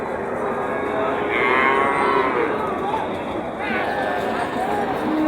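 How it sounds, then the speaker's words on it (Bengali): A heifer calf moos at a busy cattle market in Joypurhat, a few drawn-out calls rising above constant crowd chatter and bargaining voices nearby. "বকনা, হ্যাঁ বকনা বাছুর।"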